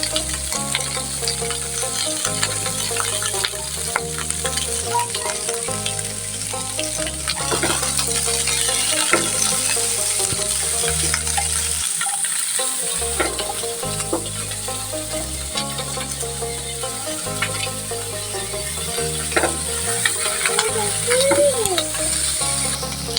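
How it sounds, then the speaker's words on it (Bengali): Onion stalks steadily sizzle and crackle in a hot pan, with spatula scrapes and stirring throughout, close and continuous, over a low rhythmic hum of background music. "পেঁয়াজের কলিগুলো এভাবে নেড়ে চেড়ে ভেজে নেব"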